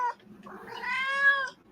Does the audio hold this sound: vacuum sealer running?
no